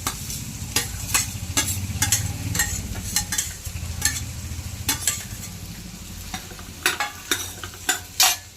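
Green masala paste sizzles and fries in a hot pan for spiced wedding-style rice, a dense steady crackle broken by repeated sharp scrapes and clinks of a spoon stirring, loud and close with no voices.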